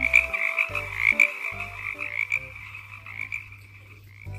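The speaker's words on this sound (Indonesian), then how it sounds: "Wow, ini ada kodok." Frog croaking in repeated pulsing calls, loud and close, a steady rattling chorus with no talk over it, amid a toy unboxing scene.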